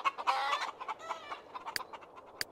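Chickens at a coop in The Sims 3 cluck in a quick, close burst of soft clucks, fading into a few scattered clicks.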